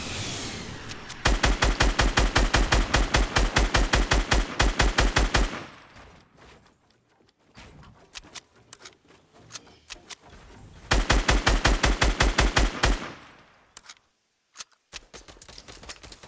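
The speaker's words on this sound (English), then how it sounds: "Stop shooting it now." Rapid automatic gunfire in a video game, two long bursts of sharp, evenly spaced shots, close and loud, separated by quieter scattered single shots and background game noise.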